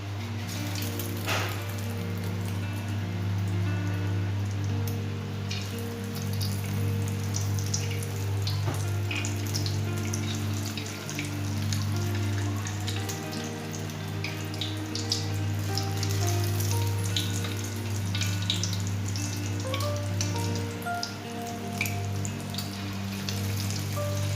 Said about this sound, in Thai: เอามะเขือชุบไข่ลงไปแบบนี้ แล้วก็ทอดครับ